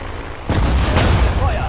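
Battle gunfire from units in Sudden Strike 4 around Lille, 1940: a sudden loud booming burst of shots and blasts kicks in midway, rumbling heavily, with a voice speaking over the combat.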